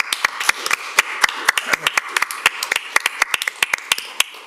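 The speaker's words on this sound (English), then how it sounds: "Let's do a round of applause." A few people clap at a city council meeting, about thirty sharp, distinct, uneven claps in a sparse, close burst with no crowd roar behind them.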